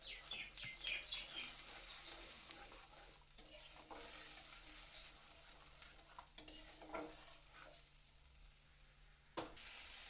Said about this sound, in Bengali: এবার পেস্ট করে রাখা মশলাটা ওর মধ্যে দিয়ে দিলাম।